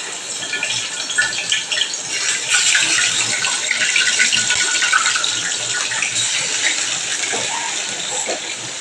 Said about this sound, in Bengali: এবার আমি দেখো কাতলা মাছের পেটিগুলো ওপর থেকে সেট করে দিয়েছি এটা এখন ফ্রাই হতে দেবো